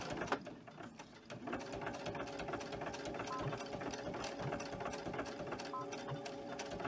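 A sewing machine runs steadily, stitching a zigzag to lock down fabric on a coin purse, its rapid mechanical whir continuous and close throughout with faint talking underneath.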